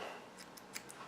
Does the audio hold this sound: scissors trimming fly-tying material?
yes